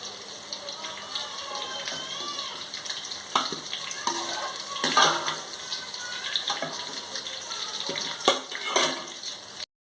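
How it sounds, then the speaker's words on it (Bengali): Spice masala for egg biryani sizzles as it is stir-fried in a pan, a steady hiss with scraping stir strokes and occasional clinks. The sound stays fairly quiet throughout and is heard alone, with no talking. "আমি মশলাটা একটু কষিয়ে নিচ্ছি।"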